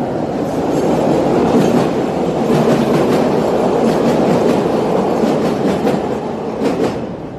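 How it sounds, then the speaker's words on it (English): A train rumbles past close by, loud and steady, its wheels clattering in a repeating clickety-clack rhythm over several seconds. No voices are heard. "hold on, this train going by"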